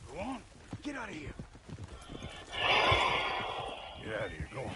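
Horses in Red Dead Redemption 2 clip-clop along at a trot and let out a couple of whinnies, with a loud rushing swell of movement midway; a voice speaks briefly over the hoofbeats.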